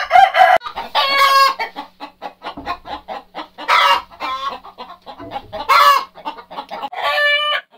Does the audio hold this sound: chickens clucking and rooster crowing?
yes